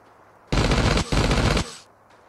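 Automated turret in the Last Day on Earth survival game opening fire in two loud, rapid bursts of about a second each, separated by a brief pause, with no one talking.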